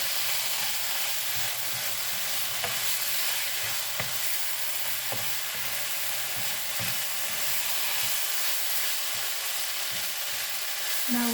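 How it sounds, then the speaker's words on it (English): Milkfish and bean curd seasoned with black pepper sauté in a pan with a steady, close sizzle and occasional stirring clicks, and no voices. "Then we'll continue to saute."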